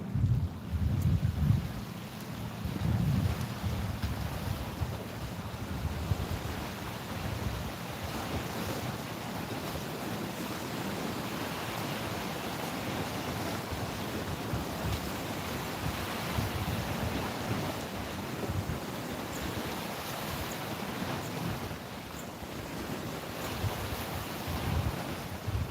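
Heavy ocean swell rolls and crashes onto a Sydney shore in a constant roar, with wind buffeting the microphone throughout and no talk.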